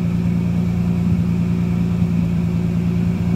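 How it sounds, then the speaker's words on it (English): A Dodge Dakota's replacement engine idles steadily in a truck, a smooth, even low rumble holding at constant loudness with no talk. "Very good little sounding motor"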